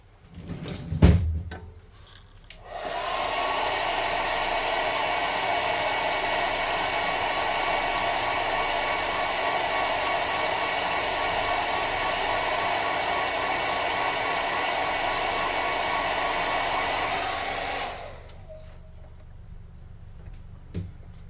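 Hair dryer blowing on a painted tabletop model piece, a steady loud whooshing roar for about fifteen seconds, switched on after a few handling knocks and then cut off.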